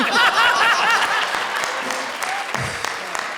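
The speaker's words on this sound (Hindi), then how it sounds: "जोरदार तालियों से स्वागत कीजिए इनका।" A studio audience at a Comedy Circus comedy show breaks into a brief burst of loud applause that quickly fades, with a few scattered claps trailing off.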